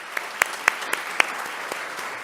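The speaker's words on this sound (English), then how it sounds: "So please join me in recognizing these folks with a round of applause" A school board meeting audience gives a thin round of applause, with scattered individual claps spread across the room rather than a full ovation.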